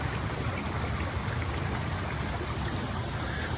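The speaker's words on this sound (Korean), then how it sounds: "비가 올 때만 여기 똘이 이 정도 물이 흘러요." Water trickles along a small rain-fed ditch beside a greenhouse, a steady broadband outdoor wash that holds evenly for the whole stretch, with no other sounds standing out.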